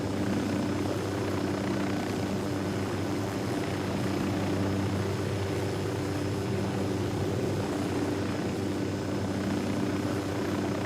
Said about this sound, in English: I can see that aircraft.